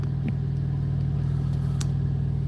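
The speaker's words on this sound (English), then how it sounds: "And now the Amazon truck's moving." An Amazon truck pulls away at a truck stop. A constant low engine drone runs throughout, with a brief faint knock near the start and no voices.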